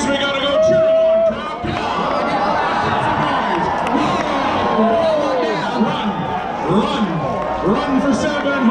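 Spectators shouting, whooping and cheering at a ladies' figure-eight foot race at a derby event, a loud busy crowd with overlapping voices and excited calls throughout.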